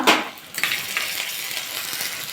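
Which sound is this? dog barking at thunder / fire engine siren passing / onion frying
onion frying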